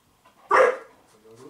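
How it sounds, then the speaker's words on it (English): A single sharp bark from a nearby female dog, followed by quiet background sounds. "Barking."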